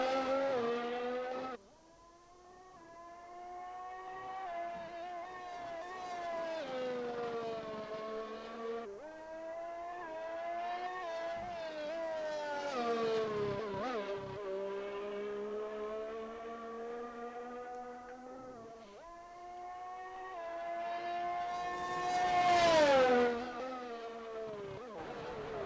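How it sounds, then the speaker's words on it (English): Rally car in a racing video game braking hard into a corner and swinging its back end round into a drift, engine note dropping then rising again in sweeping revs, loud and close throughout. "Braking into the corner. Get the back end to swing round."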